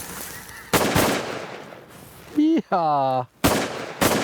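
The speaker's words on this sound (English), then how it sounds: "Good shooting, boys." Shotgun blasts at waterfowl during an early-season hunt in Saskatchewan: several sharp, loud reports, one near the start and a few close together toward the end, with hunters shouting and talking between them.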